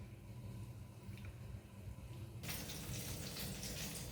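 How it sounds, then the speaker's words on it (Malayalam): A cooking pot of salted water for chicken maqluba rice comes to the boil, giving a soft, steady bubbling hiss that suddenly swells louder and rougher halfway through, with no voices. "വെള്ളം തിളക്കുന്നുണ്ട്."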